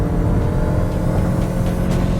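A Lexus NX450h+ plug-in hybrid SUV accelerates hard in Sport Plus mode from around 60 km/h, giving a steady low cabin drone of engine and road noise.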